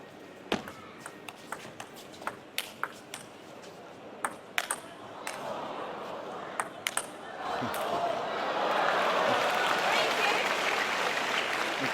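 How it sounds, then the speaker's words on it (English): At a Chinese Super League table tennis match, sharp ball taps ring out in a rally, then a large arena crowd breaks into swelling applause that builds and holds. "The crowd love it."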